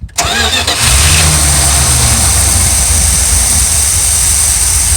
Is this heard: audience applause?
no